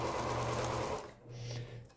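A sewing machine runs in two short bursts while stitching a quilt seam, with a steady mechanical hum and rapid needle rhythm that pauses briefly in between, close and fairly quiet.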